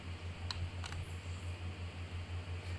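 A low, steady fan hum with a gentle rhythmic pulsing runs throughout, joined by a couple of brief faint clicks early on.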